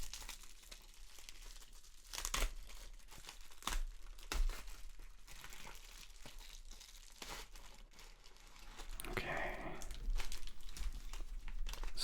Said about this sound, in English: let's unbox this first mystery pack of cards